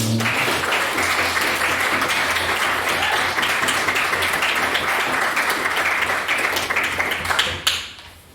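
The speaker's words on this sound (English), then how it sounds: "I'd like everyone to clap again" An audience at a school debate applauds the first opposition speaker, with many hands clapping in a steady, full crackle for about seven seconds before it stops abruptly, a low hum running underneath.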